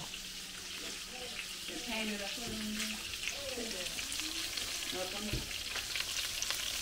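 Food frying in a home kitchen: a steady, loud sizzle crackles throughout, with occasional stirring clatter and a person talking underneath.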